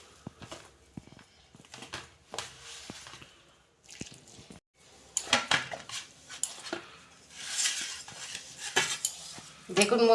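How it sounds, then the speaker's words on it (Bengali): Aloo paratha dough being kneaded by hand with small splashes of warm water, giving soft sticky slaps, squelches and dull knocks against a metal bowl, in uneven bursts with short pauses, fairly close, no talking. "অল্প অল্প জল দিয়ে আমি মাখবো।"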